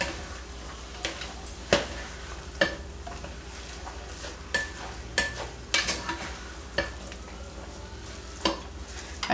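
Food for cheeseburger soup browning in a pot, a steady low sizzle punctuated by a dozen sharp clinks and scrapes of a utensil against the pot, close and without talk.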